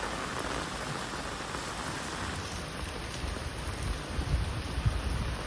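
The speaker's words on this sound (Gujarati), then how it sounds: "પોલ ચાલુ થઈ ગયો વરસાદ હવે" Steady rain falls on a surface, a dense continuous patter with a few louder drops, fairly close, no voices.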